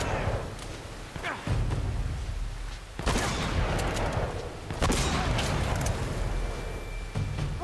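Gunfire from the video game Uncharted: a dense, loud barrage of sharp shots and impacts with whooshes, several bursts clustered around a few moments, set against busy game ambience.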